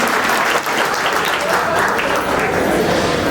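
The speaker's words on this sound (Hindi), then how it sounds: "तालियां हो जाए रंजना ताई और संगीता बहनी के लिए" Dense, loud applause from an audience at a community get-together honoring two women, a continuous wash of many hands clapping steadily throughout.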